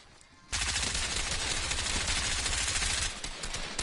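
Sustained automatic gunfire in the video game Fortnite, a loud continuous rattle that bursts in suddenly after a quiet start, holds for about two and a half seconds, then eases slightly.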